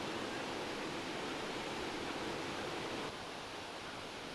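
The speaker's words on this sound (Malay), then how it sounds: "Cantik air terjun dekat Sungai Ingki ni" A waterfall on the tiered Sungai Ingki river at Kuala Kubu Bharu rushes as a loud, steady broadband roar with no voices over it.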